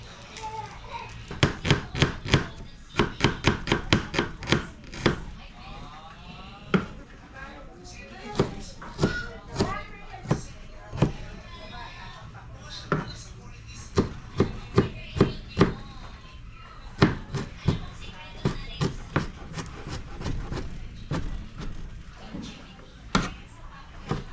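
A knife slices onions on a board for kinilaw, making a long run of sharp, rapid taps in uneven bursts, close by, with people talking throughout.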